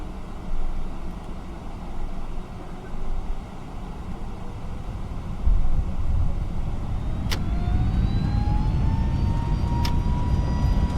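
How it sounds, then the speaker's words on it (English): Airbus A321neo engines spooling up to takeoff thrust in a flight simulator, a steady broadband roar that grows louder as a rising whine climbs, with faint clicks and no talking. "Brake is released. Very good. Takeoff."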